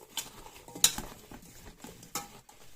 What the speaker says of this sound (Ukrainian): Це все перемішуємо.